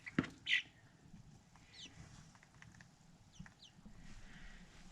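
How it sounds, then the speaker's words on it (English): A rooster on a small backyard flock gives a brief call at the start, then quiet outdoor ambience with faint rustling and distant small sounds. "Here's a rooster."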